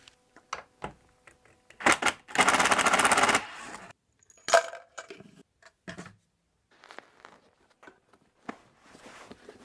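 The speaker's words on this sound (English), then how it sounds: "Seat cushions are just held in by screws underneath here, so we'll take those out and we'll get the cushion off." Screws come out from under the seat cushion of a split wood rocking chair: close, sharp clicks and taps around a roughly one-second buzzing burst, then scattered light knocks, with no talking.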